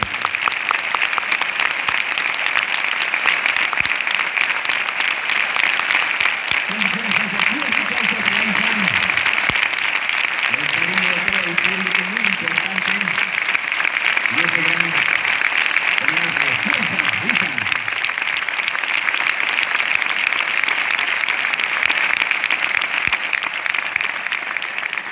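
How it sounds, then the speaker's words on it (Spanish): Steady audience applause at a street-festival competition in La Vall d'Uixó, loud and sustained for the whole stretch, with a voice speaking in the middle under the clapping. "Recibamos con un fuerte aplauso a Ethan, su hermano."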